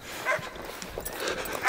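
A hunting dog bays at a wild boar in the bush, with a few sharp yelping barks rising over rustling and faint background noise, fairly close and intermittent.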